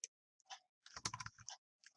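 Text typed on a computer keyboard, with quick clusters of close, crisp key clicks separated by brief silent pauses.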